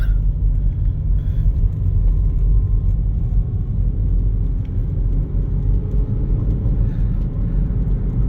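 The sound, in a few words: car driving up curvy mountain road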